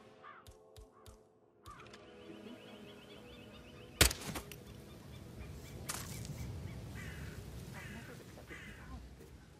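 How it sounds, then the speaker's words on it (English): Crows in the video game Hitman VR, set on a Dartmoor estate, a series of sharp caws at the start, followed by a loud thump and a noisy game soundscape with occasional further calls. "It's the birds. They're making a racket, droppings everywhere."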